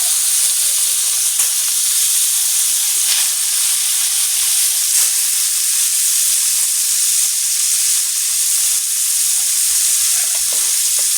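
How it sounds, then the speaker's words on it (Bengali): Rohu fish pieces frying in hot oil, a loud, steady, close hiss of sizzling that runs unbroken throughout with faint occasional crackles, no speech. "এবার সেই তেলেই রুই মাছ ভেজে নিবে।"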